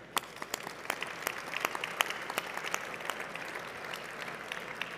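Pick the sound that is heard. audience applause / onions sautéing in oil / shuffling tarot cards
audience applause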